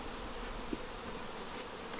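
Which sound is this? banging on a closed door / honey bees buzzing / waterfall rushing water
honey bees buzzing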